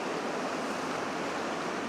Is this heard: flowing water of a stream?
yes